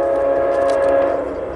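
Amtrak 89, a southbound passenger train, passing close by with a loud sustained horn tone over the rumble of the cars on the rails.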